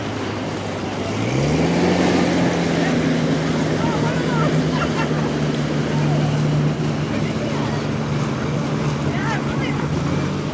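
An Amphicar amphibious car motors through water, its engine droning steadily with wind and splashing around it, while someone talks over the sound.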